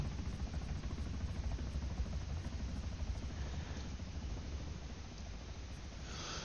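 Helicopter in the video game Arma 3 gives a steady, dense rotor and engine roar, constant and fairly loud throughout with no talk.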